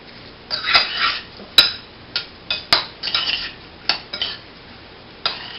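A spoon mixing zucchini boat stuffing in a bowl, with irregular clinks, taps and scrapes of metal against the dish, some sharp and close, separated by brief pauses.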